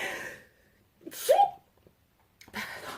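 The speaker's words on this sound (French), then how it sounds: "Un instant, je vais éternuer." A single sneeze, quick intake then a sharp burst, close and fairly quiet, between short stretches of a voice.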